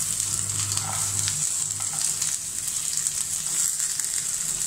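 Mustard seeds, cumin, turmeric and dried chili fry in hot oil for an Odia veg lunch, a steady close crackling sizzle with fine popping spatter throughout, no voices.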